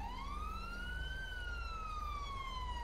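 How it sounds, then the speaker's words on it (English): Police car siren in GTA 5 with the LSPDFR mod, one long rising and falling wail with a steady engine rumble beneath, moderately distant and continuous. "they just drive around with the lights and sirens on"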